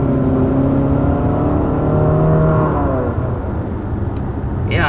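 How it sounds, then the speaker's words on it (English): A 2020 Infiniti QX50 with a 2.0-liter variable compression turbo engine accelerates, heard loud from inside the cabin as a smooth, whirring drone that climbs steadily in pitch before settling. "this actually has the variable compression turbo engine"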